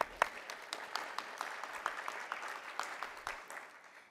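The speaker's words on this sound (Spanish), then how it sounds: "Un aplauso para la licenciada" Applause from an audience at an academic education event, a steady patter of many clapping hands with scattered sharper claps, fairly quiet and fading toward the end.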